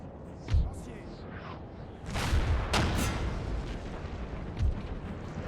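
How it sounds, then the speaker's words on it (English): Artillery shells pound a town building in a Napoleonic battle, with muffled booms at intervals and a longer rumbling stretch of impacts, heard under a voice talking. "Let's just have our artillery absolutely pound this town center building"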